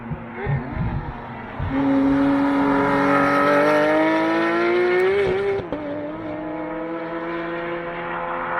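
BMW E46 and E92 race cars on Thunderhill race track, a loud engine note climbing steadily as the cars accelerate close by, then easing off into a lower drone.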